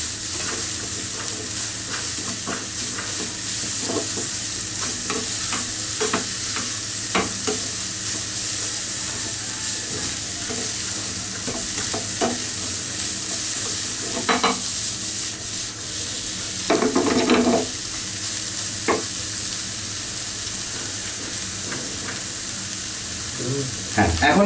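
Shredded cabbage and carrot stir-fried for chicken chow mein in a restaurant kitchen wok, a steady loud sizzle with repeated scraping stir strokes and clatters, no talk.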